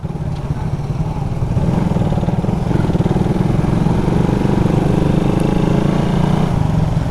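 A Raider motorcycle engine runs steadily and loud throughout, a low rumbling idle with a faint clatter on top and no change in pace.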